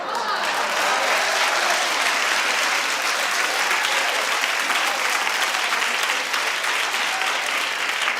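A studio audience applauding, dense sustained clapping from a large crowd, loud and even from start to finish with no break.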